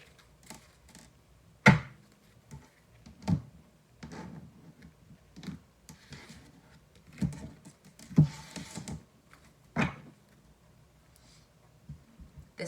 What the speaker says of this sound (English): You just saw me shuffle those cards, like shuffle and cut them